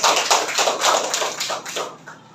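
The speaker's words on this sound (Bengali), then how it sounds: "সবাই ওর জন্য করতালি দাও" A classroom of students claps for a classmate, a short burst of brisk overlapping applause that tapers off after about two seconds.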